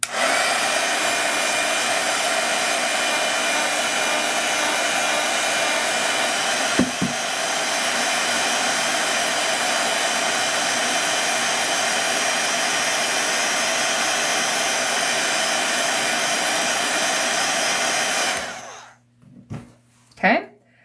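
A hair dryer blowing to dry paint on a cartoon giraffe, otter and cat painting, a loud steady close whoosh that runs unbroken for most of the clip, then cuts off abruptly with a couple of brief bumps afterward.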